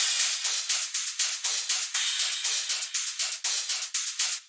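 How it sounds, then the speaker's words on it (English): High-end drums from a bass house section of a dubstep track drive a fast, energetic pattern of bright hi-hat and percussion hits, rapid and continuous, with no low end and no voices. "And the rest of the drums change to be much more energetic."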